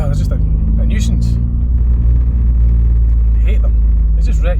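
Car driving over speed bumps, a steady loud low engine and road rumble running throughout, with someone talking over it at intervals.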